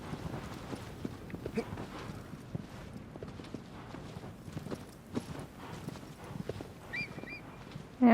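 In Shadow of the Colossus, a horse's hooves gallop in quick, even beats across the ground, continuous and fairly quiet, ending with a brief louder burst.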